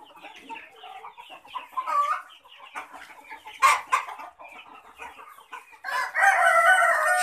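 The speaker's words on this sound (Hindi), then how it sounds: "ये देसी मुर्गा प्योर देसी।" A desi (native Indian breed) rooster crows loudly near the end, preceded by a steady chorus of desi chickens clucking and chattering close by on a farm.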